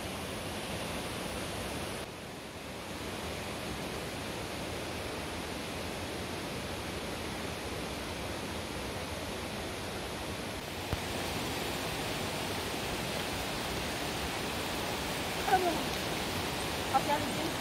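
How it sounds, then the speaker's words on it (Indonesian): Steady broadband rush of small waterfalls flowing down a cliffside in the jungle, a constant close wash of water noise with occasional faint knocks. "Ada banyak air terjun-terjun kecil kayak begitu."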